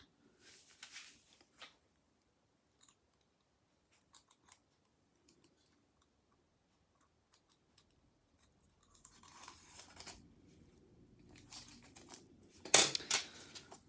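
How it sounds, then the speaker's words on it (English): Scissors snip through a long strip of nail art foil, a few faint crisp cuts and rustles scattered over near silence, ending in a louder sharp snip close to the microphone. "Right, I'm just going to cut a long piece off."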